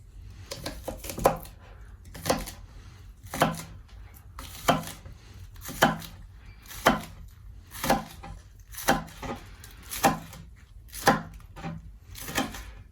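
A knife chops onions on a board for a cabin-cooked deer hash, striking in a steady, even rhythm about once a second, each chop a sharp, close, woody knock with quiet pauses between.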